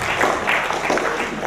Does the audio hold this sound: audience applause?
yes